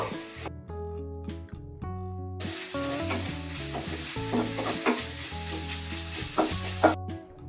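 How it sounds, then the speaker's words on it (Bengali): Vegetables and sauces, including soy sauce and red chili sauce, are stir-fried over a high gas flame for chicken hakka noodles. A steady sizzle and scraping stir sit underneath loud background music. "গ্যাসের ফ্লেমটা হাইতে রেখে সবজির সাথে সসগুলো মিশিয়ে নেব"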